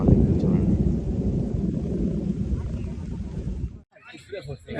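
Thunder from lightning striking a coconut tree in Hojai, Assam: a long, loud rolling rumble with wind and rain noise that cuts off abruptly, followed by excited voices talking.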